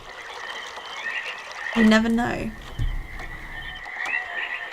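Frogs croak steadily in the ambient soundscape of the video game realMyst, with people talking briefly over the chorus.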